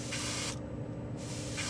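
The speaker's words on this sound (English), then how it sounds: "light pull gets the air going" A Mr. Hobby Procon Boy PS-290 airbrush releases compressed air in a spray booth, giving a steady, close hiss that briefly drops out and then resumes, with no talking.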